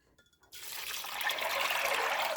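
Water runs from a tap into a container, a steady rushing splash beginning abruptly after a brief clink and continuing close and even, filling for crock pot beans.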